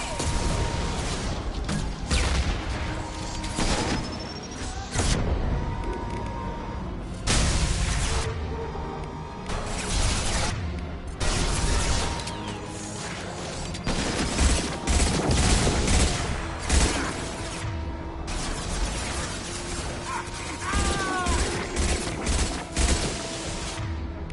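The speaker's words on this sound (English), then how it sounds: "Firing an impact shot." Rapid impact-ammo gunfire and explosive booms crash repeatedly in Mass Effect 2 Legendary Edition combat, loud and dense bursts one after another with no clear voices over the battle.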